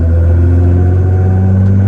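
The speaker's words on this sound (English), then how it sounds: "So starting the test drive in this GT-R, very, very loud." A 1,300 hp twin-turbo V6 2012 Nissan GT-R drives on the road, its engine a loud, steady low drone with a heavy rumble that holds without pause, alone with no voices.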